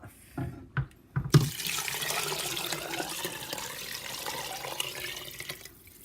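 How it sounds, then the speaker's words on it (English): Eight cups of broth pour into a soup pot for kapusta soup, a few sharp clunks at first, then a steady splashing stream of liquid that continues softly. "Okay, so in goes the broth."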